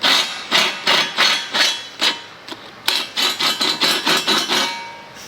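A step drill cuts a hole in a custom-fabricated winch cradle for an 80 Series, producing about a dozen loud, rasping bursts in a rhythmic pulse, with a brief lull midway.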